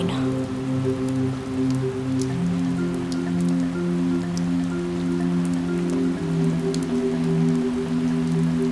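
Steady rain falls and patters on a surface, with a continuous hiss and scattered drop ticks, and a low tonal hum running underneath.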